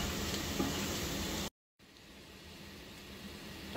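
Carrots and onions sauté in a pan of oil for a rice kabsa, giving a loud, steady sizzle that cuts to silence for a moment, then returns as a softer, even frying hiss.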